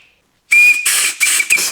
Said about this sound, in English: There's that whistle I love so.